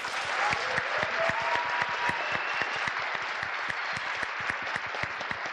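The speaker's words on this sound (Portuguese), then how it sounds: "Uma salva de palmas." An audience applauds a speaker named Beatriz at the close of a talk on UX for everyone, steady dense clapping with a few sharper individual claps standing out, moderately near, lasting several seconds.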